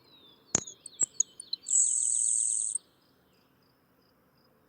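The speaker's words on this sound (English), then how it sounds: "Grasshopper sparrow." A recorded grasshopper sparrow song plays back: a few short high ticking notes followed by a long, thin, insect-like buzz lasting about a second, clear against a quiet background.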